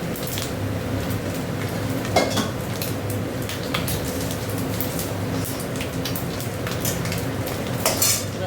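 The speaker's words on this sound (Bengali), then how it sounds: "নারকেলটা একটু ভাজা ভাজা হোক" Grated coconut for a bottle-gourd-leaf mash frying and being stirred in a pan, a steady low sizzle under repeated scraping and clinks of a metal spatula against the pan, with no talking.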